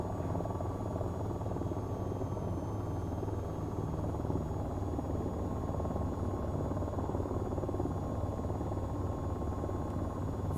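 Steady, continuous rotor drone from an AH-94 attack helicopter in the flight game VTOL VR, the rotor running off its ideal speed after hitting buildings, an unbroken buzzing hum with a faint high whine on top.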